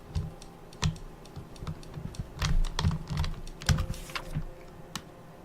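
A keyboard being typed on in The Novelist, with irregular bursts of close clicks and taps and a denser flurry in the middle. No voices.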